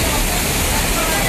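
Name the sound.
strong rushing floodwater current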